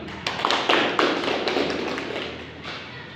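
Children clapping their hands together in a classroom, a quick run of sharp claps at the start that settles into a steadier patter and slowly fades.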